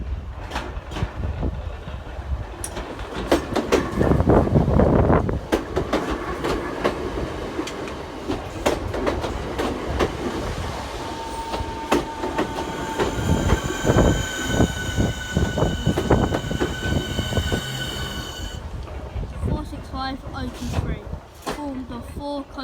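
A Southeastern class 465 electric multiple unit, four coaches, passes on the line to Hayes, Kent, its rumble and wheel clatter building and fading over about twenty seconds, with brief high tones and people talking nearby.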